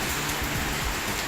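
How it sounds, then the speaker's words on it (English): Rain falling outside during a storm, a steady, dense hiss of drops with no breaks, heard alone over the brief moment. "Raining outside"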